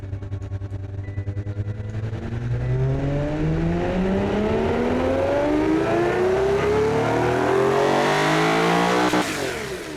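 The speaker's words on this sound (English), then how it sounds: "The experimental version is now ready to go. You probably want to have a listen to it once more." An experimental concept car engine in the Automation game revs up through a rising sweep, its harmonics climbing steadily over about nine seconds before cutting off sharply, loud and alone without speech.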